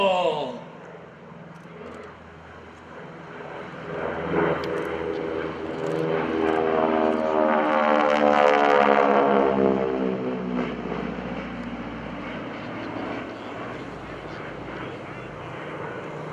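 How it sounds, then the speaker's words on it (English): Deep, throbbing roar of WWII North American AT-6 Texan propeller engines building to a loud peak as the planes pass at an airshow, with a falling pitch, then slowly fading away. "When the heavy metal warbirds come through, I let you hear the engines"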